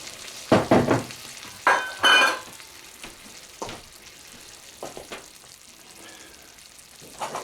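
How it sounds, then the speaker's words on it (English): Dry white wine such as Chardonnay poured into a hot pan after cooking chicken cutlets, bursting into loud hissing sizzles that come in several surges, then settling into quieter intermittent bubbling and spatter. "Now that'll deglaze the pan."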